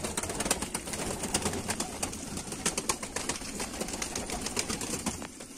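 Old pigeons, fifteen to twenty years of age, fill a loft with dense cooing and fluttering, a busy rhythmic patter of wing clicks and rustling carrying on throughout.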